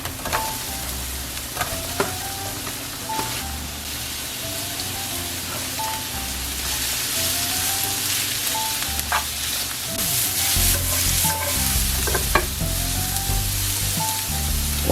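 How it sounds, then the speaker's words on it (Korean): Onions and carrots stir-fried in a pan for japchae, a steady close sizzle broken by repeated scraping and clacking of a spatula against the pan throughout. "넣어서 볶아줍니다."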